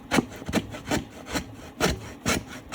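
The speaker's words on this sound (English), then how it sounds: "Coping saw is made for trim work in houses" Coping saw cutting wood along a marked line for a crystal dragon stand, a steady close back-and-forth rasp with six even strokes about half a second apart.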